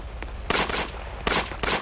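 Rifle gunshots in a Roblox Juno Beach battle game, several sharp, loud cracks in quick succession, close by and without speech.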